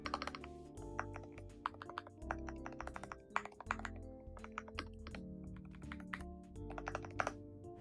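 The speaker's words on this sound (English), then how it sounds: "I truly am amazed how keyboard sound is good" Steady typing on a budget magnetic Hall effect mechanical keyboard with a gasket mount and aluminum plate, a run of crisp, close clicks and clacks with brief pauses, no voices.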